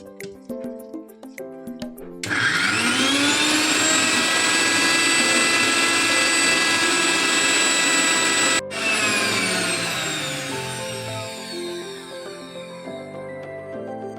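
A mixer grinder blends uppumanga chammanthi, a salted mango chutney. After a quiet start it roars up to a loud, high-pitched whine, cuts out for an instant, restarts, then gradually winds down.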